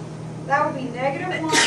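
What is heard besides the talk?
sneeze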